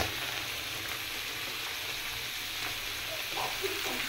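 Bottle gourd greens with tilapia fry in a pan of hot oil, a steady close sizzle running evenly throughout with no talk.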